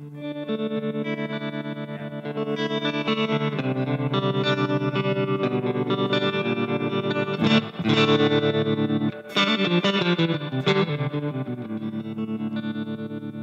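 Electric guitar chords ringing through a Fender Blackface amp with a washy, shimmering reverb and lingering tails, steady and fairly loud, no talking.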